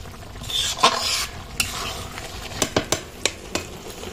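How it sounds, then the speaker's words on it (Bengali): Taki fish turned over in a frying pan, with a soft sizzle under a series of sharp spatula scrapes and clinks against the pan, spaced irregularly. "এখন মাছটা উল্টিয়ে দেখবো কি অবস্থা।"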